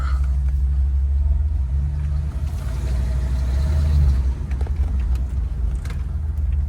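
1991 Cadillac Brougham with its engine idling as it warms up, a steady low rumble heard close by that swells slightly midway, with faint background noises.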